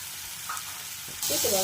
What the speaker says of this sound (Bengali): রসুন আর পেঁয়াজ লঙ্কাগুলোকে আধা বাটা করে নিয়ে এখন তেলের মধ্যে দিয়ে দিলাম